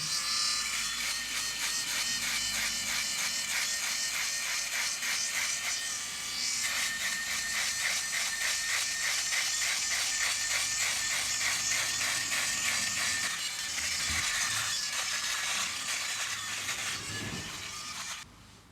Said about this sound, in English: once you've got the rotary shaver done